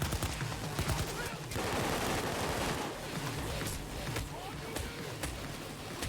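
Turret gunfire in the video game Payday 2, dense rapid bursts of automatic shots pounding almost without pause, loud and close.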